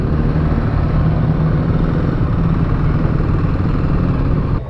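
A 2021 Kawasaki KLX300 dual-sport motorcycle engine runs steadily after a ride, a loud, close, even rumble that holds level and drops slightly right at the end.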